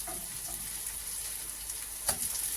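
Zucchini pancakes frying in oil in a pan give a soft, continuous sizzle and crackle, with a single brief clink partway through and no talk.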